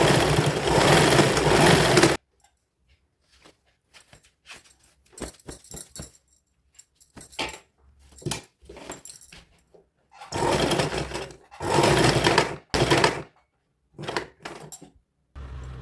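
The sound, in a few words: sewing machine stitching a kids' sharara outfit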